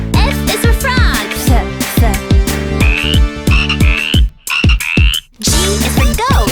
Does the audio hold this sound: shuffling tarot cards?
no